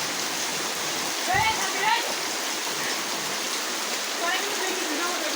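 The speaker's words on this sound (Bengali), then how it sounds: "সেই মনোরম বৃষ্টি সাথে একটা পুকুর, আবহাওয়াটা সে ভালো" Steady rain falls beside a pond on a rural college campus, a continuous wash of hiss and patter with a few brief bird-like chirps and faint voices drifting in.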